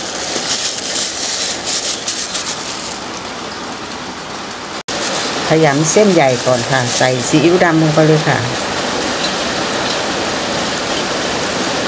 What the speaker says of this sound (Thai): ได้ยินเสียงฝนไหมคะ